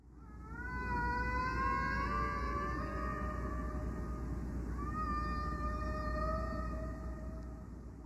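Humpback whale song from a 1970 album: long, tonal moaning calls that glide and waver in pitch, with a second call rising partway through over a low background hum.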